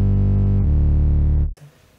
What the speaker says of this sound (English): a fruity fast distortion for a little bit of gritty distortion